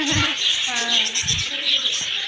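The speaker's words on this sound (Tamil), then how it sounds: "வந்து நிறைய லவ் பேர்ட்ஸ் இருக்குது" Lovebirds in an aviary at Yercaud keep up a steady stream of high, bright chirps and chatter, with a voice briefly audible underneath.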